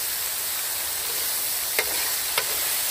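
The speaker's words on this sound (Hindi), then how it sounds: "प्याज को ग्राइंड कर लिया था ये डालेंगे। ग्राइंड किया हुआ लहसुन और अदरक।" Ground onion, garlic and ginger sizzling in hot oil while cooking outdoors in a village, a loud, steady, hissing fry that fills the whole stretch, broken by two brief stirring scrapes.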